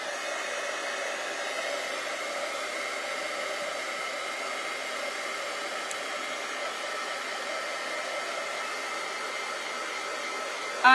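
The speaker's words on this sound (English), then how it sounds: "Let's hit this with a dryer first before we do the white." A hair dryer blows steadily throughout, drying paint on a barn quilt, a constant loud whooshing hum with no pauses, ending with a brief bump at the close.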